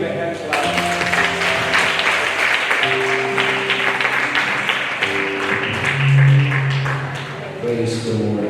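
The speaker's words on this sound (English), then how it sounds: "Can we give a hand clap?" Wedding guests clapping after the vows are exchanged at a church ceremony: a steady burst of applause lasting several seconds, mixed with voices and tonal sounds, likely music or singing.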